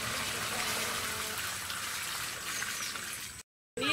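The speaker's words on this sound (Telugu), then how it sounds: "ఈ విధంగా ఈ అజోలా మదర్ పిట్ లో నీళ్ళు పోసుకోవాలి" Water gushes and splashes as it is poured into a shallow Azolla mother pit on a farm, a steady pour that stops abruptly near the end.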